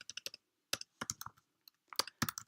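Typing on a computer keyboard: quiet, close key clicks in short bursts with brief pauses, alone.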